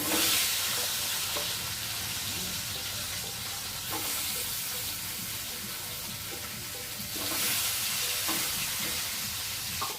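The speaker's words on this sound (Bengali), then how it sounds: "শুধু এটা ভেজে নিলে হয়ে যাবে।" Fish head and tail pieces fry in hot oil in a pan, giving a loud, continuous sizzle and crackle that swells and settles in waves throughout.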